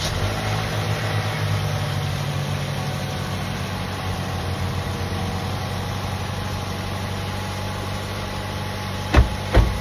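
A 2016 Chevrolet Trax engine idles at close range with a steady, even hum, and two brief knocks sound just before the end.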